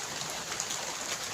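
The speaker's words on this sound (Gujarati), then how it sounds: "ચલો વરસાદ પણ ચાલુ છે" Steady rain falls and patters on surfaces outside a house, a dense, even hiss close by with a few sharper drips.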